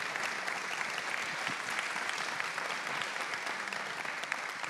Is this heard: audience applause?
yes